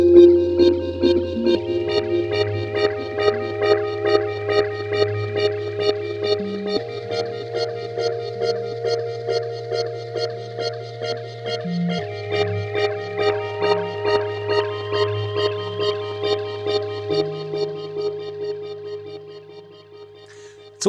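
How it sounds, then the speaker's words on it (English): Clockwork Ballerina, an Alchemy synth patch in Logic Pro, playing solo: a tinkling music-box melody with a steady ticking pulse over a sustained low drone, with notes and chords shifting every few seconds, clean and alone. "this first sound up here, which is called Clockwork Ballerina, which is an alchemy patch."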